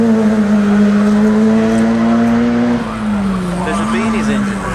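Rally car engine at the 2006 Rally of South Australia, a steady droning note that shifts pitch as the car moves along the stage, heard from a distance with spectators talking over it.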